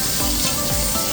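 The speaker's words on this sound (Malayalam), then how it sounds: "തേങ്ങ വറുക്കാനിടുന്നു." Coconut pieces frying in ghee for payasam, a steady close sizzle with faint stirring pulses throughout, no voices.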